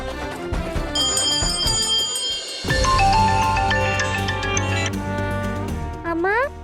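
A telephone rings with repeated bright bell-like tones, fairly loud and near, layered over swelling dramatic background music.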